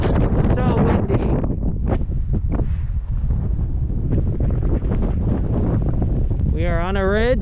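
Strong wind buffets the microphone on a high canyon ridge at Grand Canyon National Park, a loud continuous roar with gusting rumble throughout, while a few voices speak briefly over it.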